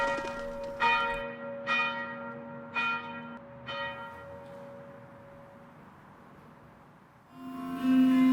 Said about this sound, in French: la cloche sonne et nous rassemble toutes à la chapelle pour l'office des laudes